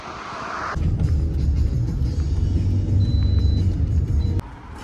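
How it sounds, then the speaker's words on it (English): Steady road traffic rumbling along a busy major street, a broad continuous roar of passing vehicles that swells after a moment and holds loud, then eases off near the end. "major streets, so they get a lot of traffic through here"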